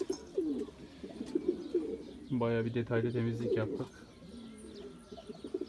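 Homing pigeons coo in a freshly cleaned coop, a soft rolling burst of cooing in the middle with scattered calls around it, while someone speaks over them.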